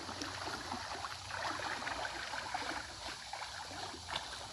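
A pool strainer net sweeps slowly through the water of an above-ground pool, making a faint, continuous swishing and sloshing with soft splashy surges and no voices.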